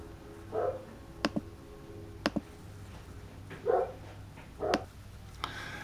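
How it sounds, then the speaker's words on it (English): Several dogs bark outdoors in short separate bursts, a few single and double barks spaced across several seconds, moderately close with quiet background between them. "My dogs were going crazy out there"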